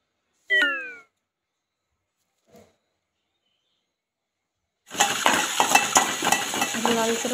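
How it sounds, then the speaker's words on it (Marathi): Chopped onion dry-roasting in a pan without oil for onion chutney, a steady crackling sizzle with light stirring clinks that begins partway through, after a brief cat meow and near silence. "लालसर होईस्तोवर कांदा भाजायचा"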